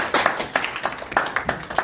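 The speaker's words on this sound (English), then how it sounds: "Can we give her a round of applause" A small group claps for a speaker, a couple of seconds of sharp, close, uneven hand claps with no voices.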